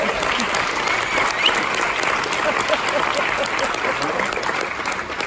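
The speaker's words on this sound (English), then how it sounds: "Can we have a bigger applause?" Summer camp audience applauding loudly, sustained dense clapping from a crowd with faint voices mixed in, steady throughout.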